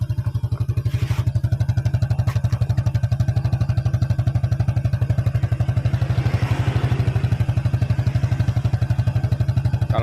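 A rebuilt Toyota Supra engine idles steadily after restarting, its close, even mechanical pulse and exhaust thrum repeating in a fast regular rhythm with light clatter throughout.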